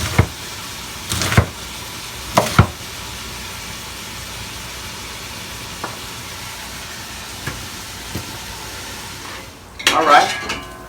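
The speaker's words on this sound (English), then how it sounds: "As you can see, our bacon is cooking." Bacon cooking in a pot for smothered cabbage gives a faint, steady sizzle, broken by a few sharp clinks and clatters of a utensil against the pot and one louder scrape near the end.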